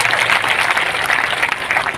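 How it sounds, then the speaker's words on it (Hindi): An audience on stage welcomes guests with loud, sustained applause that holds steady for the whole two seconds, with no talk over it. "आप सबसे मैं आग्रह करता हूं कि जोरदार तालियां बजा करके इन सबका स्वागत हम लोग करें।"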